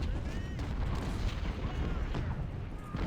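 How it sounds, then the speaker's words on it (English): Artillery bombardment in the Civil War strategy game Ultimate General at Gettysburg, with rumbling cannon booms and overlapping blasts rolling continuously at a moderate distance. "So it's just a giant artillery bombardment of annoyance is the best way to put it."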